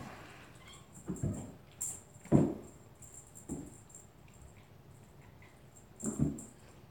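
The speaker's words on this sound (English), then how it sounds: "Dog's over there chattering." A dog makes short, soft chattering and whimpering vocalizations in an alley-to-attic setting where kittens are being handled, scattered in a few brief bursts over a quiet background.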